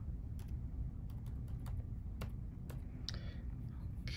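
Password being keyed in on a computer keyboard: a few scattered, soft key clicks over a steady low hum, with a short quicker burst near the end.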